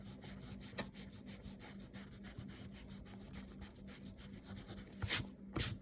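A pencil eraser rubs back and forth on paper while erasing guide lines from bubble letters, giving quiet, close, rhythmic scrubbing strokes with a couple of sharper scuffs near the end.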